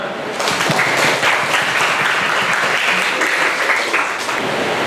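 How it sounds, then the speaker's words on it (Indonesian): Classroom applause from students during a teaching practice lesson, loud continuous clapping from a group nearby, steady for several seconds. "beri tepuk tangan buat kita semua."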